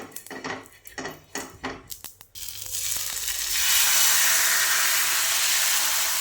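Fasting dosa batter hits an oiled pan after a few close scraping and tapping sounds, bursting into a loud, broad sizzle that swells and holds steady as it cooks.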